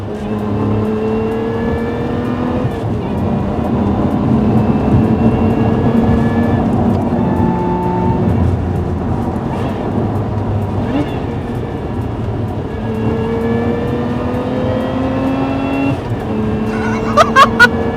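A Lotus Emira sports car drives on a B-road, its engine droning steadily with rising and falling pitch through gear changes, loud and close throughout with no talk.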